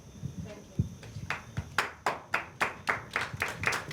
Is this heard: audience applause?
yes